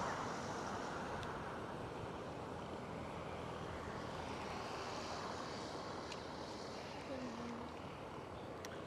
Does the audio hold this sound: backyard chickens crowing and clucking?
no